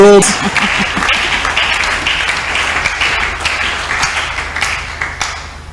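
A church congregation breaks into applause during a sermon, a loud, close burst of clapping that starts with a brief vocal sound and continues with uneven hand claps and crowd noise, tapering slightly toward the end.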